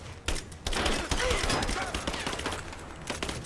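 Rapid bursts of gunfire in the Rise of the Tomb Raider video game, dense cracking shots in quick clusters with a voice talking over them.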